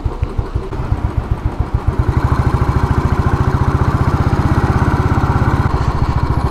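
A cast-iron Royal Enfield motorcycle engine starts with a few slow, separate thumps, then settles into a loud, close, steady single-cylinder thump-thump idle.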